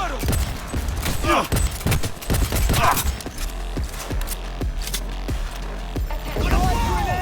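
Gunfire in a Cyberpunk 2077 firefight, rapid close bursts of shots with sharp impacts and mechanical clatter, mixed with shouted voices.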